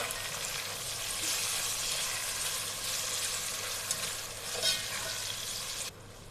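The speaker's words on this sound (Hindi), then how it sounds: "अब हम इसमें टमाटर डाल देंगे और मिक्स करेंगे।" Tomatoes go into lightly browned onions in a pan for Lahori chole and get mixed, giving a soft, steady frying hiss with a few faint stirring scrapes, fairly quiet and close, ending abruptly.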